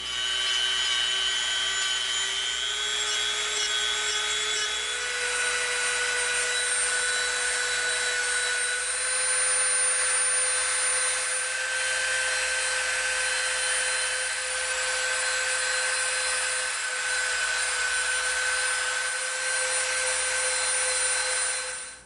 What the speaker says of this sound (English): now we're going to come in with our Dremel and we're going to start rounding off some of the edges on here